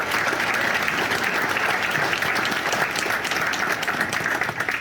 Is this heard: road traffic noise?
no